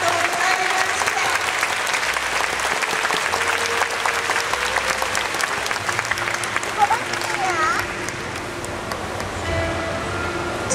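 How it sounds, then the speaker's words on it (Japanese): A theater audience applauding and cheering at a Polynesian hula dance show's farewell ceremony, dense sustained clapping filling the hall with scattered shouts, easing slightly near the end while a voice speaks over it. "今一度大きなご声援をお願いします。"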